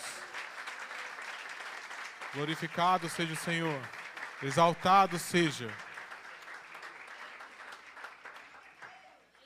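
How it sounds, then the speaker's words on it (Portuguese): A church congregation claps steadily while a preacher's voice rises over the applause, the clapping holding throughout and fading toward the end. "Você pode aplaudir o Senhor, igreja?"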